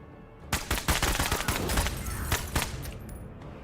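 A rapid volley of gunshots aimed at a sniper team in the tactics video game Menace, several sharp close cracks in quick succession followed by a trailing, fading burst.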